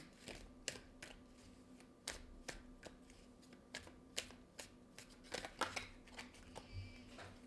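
Tarot cards are shuffled and drawn by hand: soft, quick riffling snaps and slides repeat in uneven bursts at close range, with no voices.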